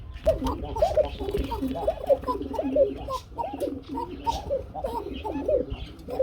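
A pair of Shalik Kuka pigeons cooing repeatedly at close range, rolling throaty coos in a steady rhythm over low background murmur.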